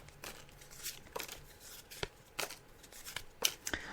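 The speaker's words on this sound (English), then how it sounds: "I'm just laying out the cards now." Tarot-style cards shuffled and laid out during a psychic reading, a series of quiet, close papery flicks and snaps in irregular bursts, with no talking over them.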